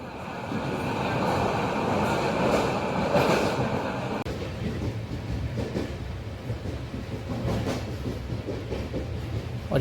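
A Tejas Express train on the Konkan Railway runs steadily in a continuous loud rumble, with wheel and carriage noise throughout and a shift in tone partway through. No one speaks.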